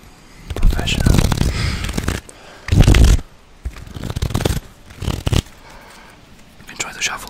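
Quick bursts of cards being riffled and shuffled, a few separate flurries with pauses between, close by and fairly loud.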